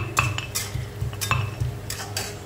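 Ginger and garlic being pounded into paste in a home kitchen, giving repeated irregular metallic clinks and thuds close by at a steady working pace, without talk.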